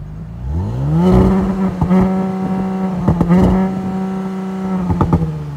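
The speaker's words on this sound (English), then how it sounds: "That was crackles and pops." A 2018 Audi S5 Sportback engine revs up and settles, its exhaust giving off several sharp crackles and pops between the revs, loud and close, on a windy day.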